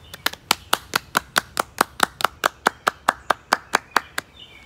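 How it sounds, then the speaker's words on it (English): Rhythmic, evenly spaced clapping for graduates at a church service, about twenty sharp claps in a steady beat, fairly close and clear with no talking. "I'd love to give a round of applause to all our graduates"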